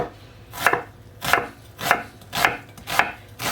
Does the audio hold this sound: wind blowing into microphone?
no